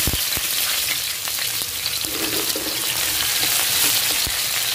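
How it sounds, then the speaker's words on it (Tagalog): Onions sizzle loudly in cooking oil in a close pan for a sautéed shrimp dish, a thick continuous frying hiss dotted with sharp pops and a few stirring knocks, no voices. "Guys, maglagay na tayo ng sibuyas."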